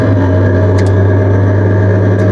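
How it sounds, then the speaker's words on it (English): Exhaust rattling loudly beneath an NB Mazda Miata running with a steady droning engine hum, heard close up from inside the car, with a couple of brief metallic clicks over the continuous rumble. "it's just that exhaust Right underneath us. Rattling away."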